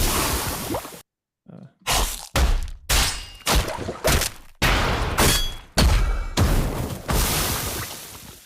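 A series of punchy, wide video game weapon impact effects, about a dozen separate bursts with short gaps between, each a loud crash with a ringing tail.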